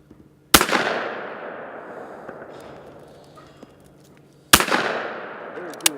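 Two sharp, loud shotgun blasts at a clay target shoot, about four seconds apart, each with a long ringing echo that fades slowly outdoors.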